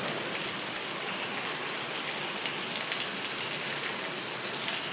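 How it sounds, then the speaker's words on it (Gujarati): Heavy rain pouring steadily, a dense, even wash of drops drumming on surfaces up close, loud and unbroken with no voices. "ધબાટી બોલાવ્યો વરસાદે આજ તો."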